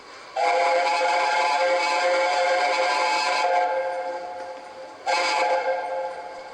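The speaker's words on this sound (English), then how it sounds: "The Tornado trundles into Newcastle, the first mainline steam train to be built in Britain for almost 50 years." The Tornado mainline steam locomotive's whistle blows in a long sustained blast as it arrives in Newcastle, cuts off, then sounds again briefly, loud and close with no voices.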